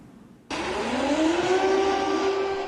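An air raid warning siren wails in Kyiv on New Year's Eve, starting abruptly and holding a loud, sustained rising tone with a long, droning sweep.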